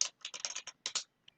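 A quick burst of computer keyboard typing, with a run of close, crisp key taps in uneven rhythm, a brief pause, two more taps and a last faint click.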